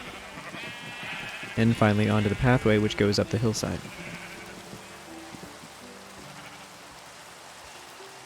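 Sheep bleat repeatedly from a pen below a footbridge on a hillside homestead, a cluster of loud, wavering calls in the middle, with someone talking before and over them and light rain-like hiss throughout.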